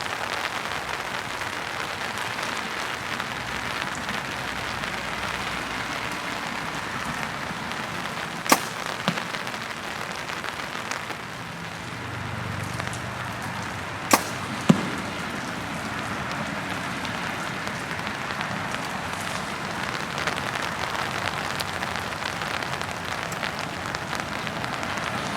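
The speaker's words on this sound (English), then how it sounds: "Alright, so it's raining out, but we're going to finish this up." Steady rain falls outdoors at an archery range, a broad continuous hiss of drops on surfaces with a few sharp knocks of arrows striking a target.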